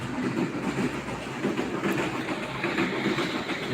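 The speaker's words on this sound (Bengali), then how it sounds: "ট্রেন যাচ্ছে" A train rolls past, a steady loud rumble of rail cars with faint clickety-clack running throughout and no voices.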